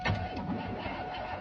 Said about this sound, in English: Just one for the road, see if it crank back up.